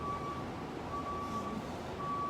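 A vehicle's backup alarm beeps in a steady, evenly spaced pattern, faint and distant over a low background rumble, with no one speaking.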